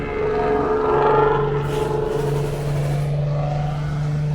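Ford Fusion idling in a repair shop with a loud, damaged muffler, giving off a steady, close, deep droning exhaust note that holds level throughout.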